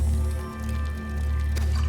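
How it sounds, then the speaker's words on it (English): Base water processing in Subnautica: Below Zero, a low steady mechanical hum with wet squishing and gurgling liquid sounds, plus a brief brighter splash near the end. "Let's process some water."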